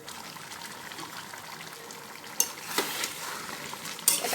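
Egg, potato and soybean curry being sautéed in a pan gives a steady low sizzle with scattered scraping stir strokes, a few sharper clanks of a spatula near the end, and no talking.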